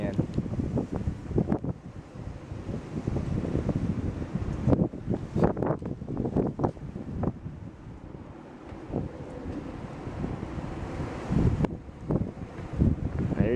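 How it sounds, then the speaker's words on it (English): Strong Chinook wind gusting hard against the microphone, a steady roaring buffet throughout with sudden heavier blasts, while someone talks over it at close range. "It's getting windy."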